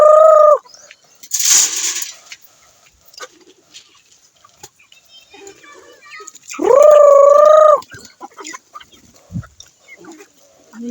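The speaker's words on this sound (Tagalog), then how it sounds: "Ito yung alaga kong manok" Pet chickens in a rural backyard coop, with two loud drawn-out calls and a burst of noisy squawking between them, then quieter scattered clucks and rustling.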